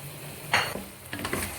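Roasted, ground masala lightly fried in a pot for shahi chicken korma, with a brief soft sizzle and a couple of stirring scrapes against the pot, fairly quiet and close.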